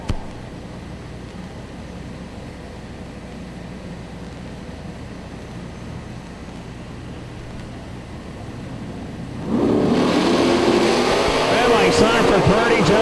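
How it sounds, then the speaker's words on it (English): A 1979 Camaro drag race car with a 632-cubic-inch engine roars in from a distance during a run, swelling suddenly loud and rough near the end, with a commentator talking throughout. "It sounds like he's breaking up out there"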